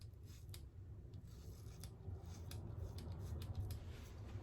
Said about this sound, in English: I'll trim it up with 1 blade